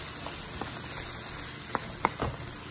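Minced garlic frying with vegetables in a pot gives a faint steady sizzle, broken by a few soft pops and crackles.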